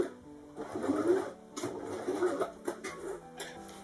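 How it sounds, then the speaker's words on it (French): A sewing machine topstitches close to the edge of a fabric face mask in short bursts of rapid, muffled whirring stitches with brief pauses between runs. "et faire une surpiqûre à la machine. Là, je couds très proche du bord,"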